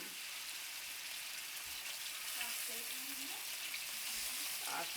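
Meat browns in a hot frying pan, sizzling and crackling steadily with a soft continuous frying hiss and occasional faint clinks.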